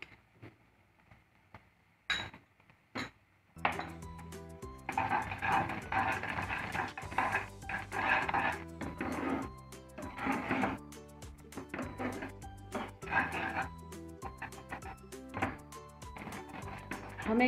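A spoon scrapes and clinks in a pan, stirring coconut powder into thick batter, with a few isolated taps and then a steady run of rhythmic scraping strokes, close and moderately loud, with no talking.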